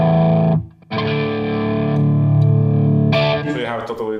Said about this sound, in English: Let's say you want to play through a Tweed Deluxe.